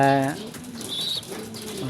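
Pigeons coo softly, a low throaty warble repeating at close range, with a voice briefly heard at the start.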